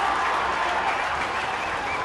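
A schoolboy rugby crowd at a D.S. Senanayake College vs Wesley College league match at London Place applauds a successful conversion kick, with loud, dense, steady clapping and cheering throughout.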